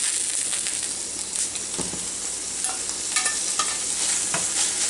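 Greasy ground beef sizzling in a pan, put back in with its fat, while a utensil stirs and scrapes through it: steady loud frying with irregular scraping and clacking strokes, no voices.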